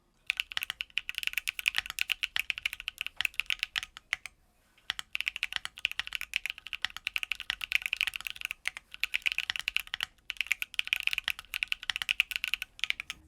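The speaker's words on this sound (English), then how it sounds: "enjoy some typing on my keyboard" Rapid, close clicking of keys on a computer keyboard in quiet ASMR-style typing, with bursts of keystrokes broken by a short pause near the middle and a few brief gaps later.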